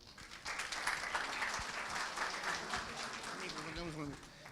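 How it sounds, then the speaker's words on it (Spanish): Audience applause fills a conference hall after a technical presentation at a national congress session, a steady broadband wash of clapping that holds for several seconds while a voice speaks faintly underneath toward the end. "Un aplauso nuevamente, por favor, para nuestro expositor"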